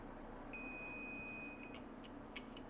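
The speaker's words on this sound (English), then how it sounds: "So this thing beeps." A DCPS boot cable connected to an iPhone 13 Pro Max gives one steady electronic beep lasting about a second, high-pitched and tonal, over a faint background hiss.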